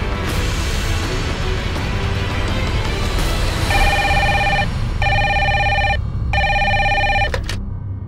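A telephone rings in a Hindi crime drama scene, with repeated electronic ring bursts in short pairs over steady background music and room noise.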